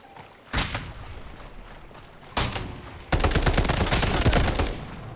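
Gunfire in the video game Delta Force, including a sniper rifle: two sharp single shots, then a sustained rapid volley, all fairly close and loud.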